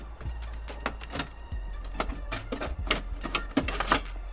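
An old stereo is ripped out of a car dashboard in a budget Volkswagen build, making a close series of irregular plastic clicks, knocks and scrapes with no talking.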